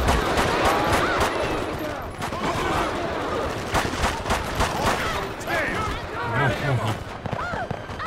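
Pistol gunfire in GTA V: repeated sharp shots crack in quick bursts during a gang-war bank heist mission, mixed with game noise and someone talking over the action.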